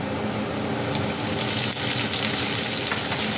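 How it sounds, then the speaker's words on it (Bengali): Chopped onions drop into hot oil with garlic that has already browned, and a steady, close sizzle hisses throughout with faint stirring scrapes. "এবার আমি এর ভেতরে দিয়ে দেব 1 বাটি পেঁয়াজ কুচি।"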